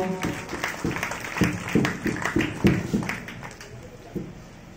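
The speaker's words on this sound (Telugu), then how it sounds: "చప్పట్లతో ప్రజలందరినీ అభినందిద్దాం." A church congregation at an infant Jesus church mass for St Anthony applauds in a moderate, uneven patter of claps heard at some distance, with a voice briefly underneath.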